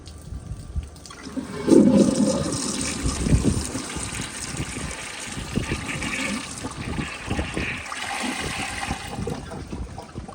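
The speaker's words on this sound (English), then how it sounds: "I'm going to push and hold the handle for this next flush." A 2001 Kohler Tyrrell service sink on a mid-tank is flushed with the handle held down, giving a loud, steady gush of rushing water that lasts for several seconds.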